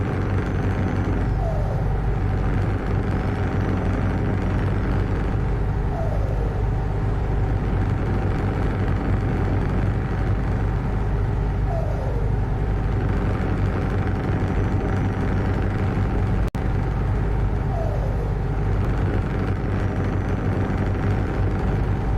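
A modded truck engine in Euro Truck Simulator drones steadily and loudly, with periodic rising gear-shift sweeps every few seconds and a brief click partway through, no talk over it.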